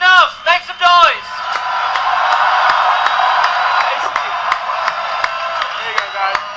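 A crowd at a live product event in Denver cheers and whoops loudly, with a few shouts at the start before a sustained wash of cheering and scattered claps that holds steady throughout.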